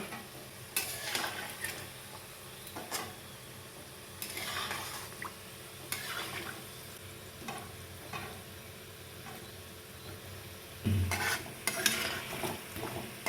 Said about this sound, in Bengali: লবঙ্গ লতিকাটা বেশ কমিয়ে কমিয়ে লাল লাল করে আস্তে আস্তে ভেজে নেব